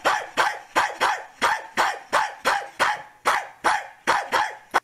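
A person's voice imitates a dog barking, with about a dozen loud, evenly spaced bark-like yelps repeating steadily and close up.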